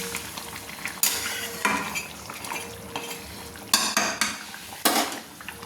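Mutton and water being stirred in a kadai, with a spoon scraping the metal in four distinct clattering strokes over a quiet, faintly simmering background.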